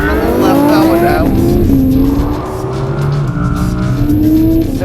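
A Lamborghini Huracan with four-wheel drive and a non-turbo engine launches hard from a standstill, its loud engine note climbing through the revs with brief tire noise, steady and close throughout.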